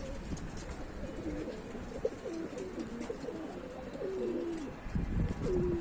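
Soft pigeon coos repeat over a steady outdoor background, low and throaty, with a few closer calls near the end.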